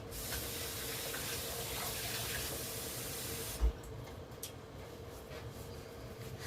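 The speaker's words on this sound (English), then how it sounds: "Just going to wash off my hands a little bit real quick." Hands washed under a running kitchen tap, a steady close hiss of flowing water for about three and a half seconds before it cuts off, leaving a soft, quieter background with faint trickles.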